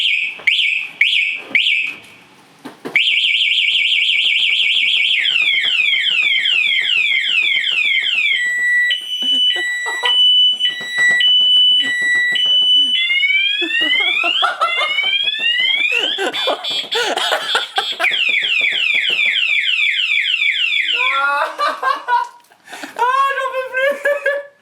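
A quad bike's anti-theft alarm blares loudly and continuously for about twenty seconds, cycling through warbling sweeps, rapid chirps and steady two-tone beeps, with a short chirp at the start and a brief pause near the end.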